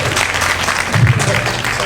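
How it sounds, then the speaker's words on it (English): A crowd applauds at a Boston community meeting about Mass and Cass, a loud, dense patter of clapping that holds steady throughout, with some murmured voices mixed in. "and he also deserves applause"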